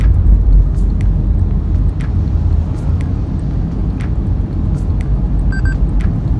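A 2020 Toyota Prius hybrid speeds up from a crawl as its petrol engine cuts in, giving a steady low rumble of engine and road noise inside the cabin with a few faint clicks, no talk.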